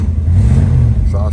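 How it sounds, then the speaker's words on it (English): A 1959 Ford Thunderbird convertible's engine rumbles low and steady at idle, close and loud, with a brief voice near the end. "Exhaust sounds good."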